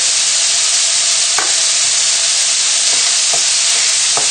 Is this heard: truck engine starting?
no